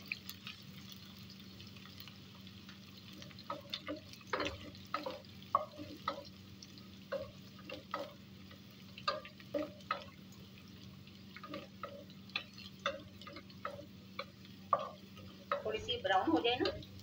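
Onion and garlic go into a hot pan, with soft frying and repeated stirring scrapes and clinks through the clip, and a brief sizzling burst near the end, all fairly close with no talk.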